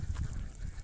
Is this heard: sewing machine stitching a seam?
no